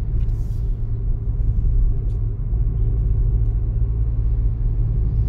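Toyota Glanza with an AMT gearbox coasting downhill from the hills in the morning: a steady, loud low engine and road rumble fills the cabin throughout, with no talking.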